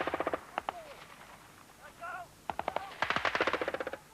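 Bursts of real gunfire ring out during British Army regiment exercises with soldiers in full battle dress: rapid volleys of sharp shots, a pause with a brief voice, then dense automatic fire near and loud.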